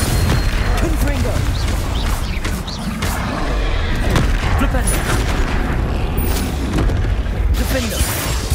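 Booming spell blasts from Incendio and Confringo burst repeatedly during a hard Hogwarts Legacy battle, loud thuds and crackling impacts layered over continuous combat noise, with brief voice callouts mixed in.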